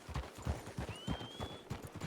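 Hoofbeats of a ridden horse clop in an even, moderate rhythm in a Western roleplay video game, fairly close and alone, with a brief thin whistle-like tone above.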